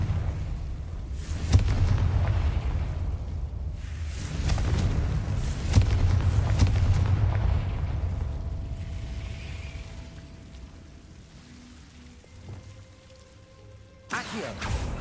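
Confringo spell blasts in Hogwarts Legacy, heard as several booming explosions with rushing whooshes, loud and near at first and then fading into quieter game ambience, with a sharp burst near the end.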